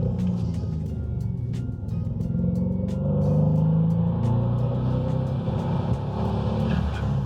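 A Hennessey-tuned Cadillac CTS-V engine rumbles loudly close by, revving up and holding a throaty roar over several seconds.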